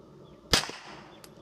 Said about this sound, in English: Let's see what the 147 grain Minuteman Munitions sounds like on Centurion.